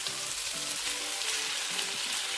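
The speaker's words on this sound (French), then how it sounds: "Je vais venir rajouter mes légumes que j'ai préalablement cuits." Stir-fried noodles in a hot pan give off a loud, continuous sizzle as pre-cooked vegetables are tossed in, with an even crackling hiss throughout.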